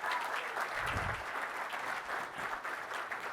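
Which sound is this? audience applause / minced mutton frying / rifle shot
audience applause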